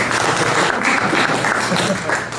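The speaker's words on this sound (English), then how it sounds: "Can I get a round of applause for that?" A comedy theater audience in Santa Monica gives a brief, full round of applause, dense steady clapping with some crowd voices mixed in.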